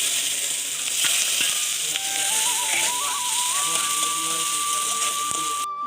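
Onions hit hot oil and fry with a continuous crackling sizzle and occasional stirring knocks. A thin, whistle-like tone rises partway through and holds steady, close and fairly loud, with no talking.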